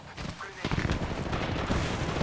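Rapid gunfire bursts from the video game Apex Legends, loud and dense with sharp repeated cracks over a rumbling low end, mixed with game noise and a voice speaking.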